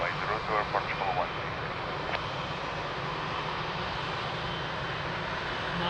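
A fixed-wing airliner, Portugal 1, on its takeoff roll from runway 02 at Lisbon Airport, a steady broadband engine roar heard from a distance that holds at an even level throughout, with no talking.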